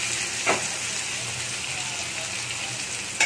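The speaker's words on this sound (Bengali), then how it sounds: "এই কুচানো পেঁয়াজগুলো দিয়ে দেবো।" Chopped onions hitting oil already fragrant with dried red chilies, cardamom and cloves, a loud steady sizzle close up with a brief louder burst as they go in and another near the end.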